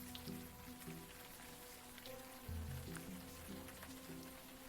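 Rain patters steadily in the video game Unavowed, a soft, constant hiss of drops on surfaces under faint low musical tones, with no voices.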